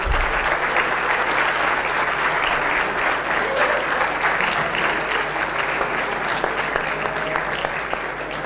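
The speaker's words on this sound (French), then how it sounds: "Ça me fait plaisir que vous l'applaudissiez encore après." An audience at a conference breaks into sustained applause after a talk, a thick, even roar of many clapping hands that holds steady from start to finish with faint voices underneath.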